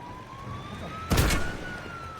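A wailing police car siren in a video game, steady and moderately loud, with a short burst of noise in the middle.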